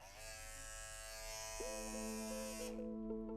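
A cordless Andis Master hair clipper running loudly with a fault, giving a steady close electric buzz that shifts to a lower, harsher drone partway through, alone without speech.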